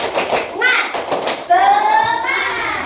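An Indonesian elementary class performs the 'tepuk semangat' spirit clap, with quick rhythmic hand claps in short patterned bursts under children and a teacher chanting along.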